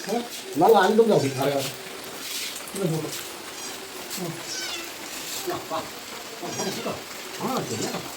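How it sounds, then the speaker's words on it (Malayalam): Steady rain hisses softly in the background while a cat meows several times, loudest at the start. "മഴയാണ് കേട്ടോ കാലത്തെ"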